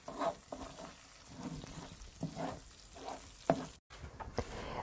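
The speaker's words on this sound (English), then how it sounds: "Now I add 2 tablespoons dried dill or freshly chopped dill and fry it for a minute or so on and keep stirring." Dried or fresh chopped dill frying in a pan for scrambled eggs with feta, soft sizzling under repeated stirring scrapes and light knocks, fairly quiet, with one sharper tap near the end.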